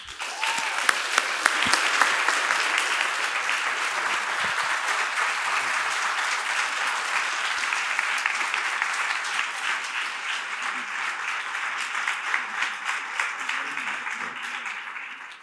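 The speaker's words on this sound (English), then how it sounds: "So for the third round of applause, please welcome these guests." A large audience applauds steadily at a New York City stage event, welcoming guests. The dense, continuous clapping holds at an even level throughout and tapers off slightly at the end.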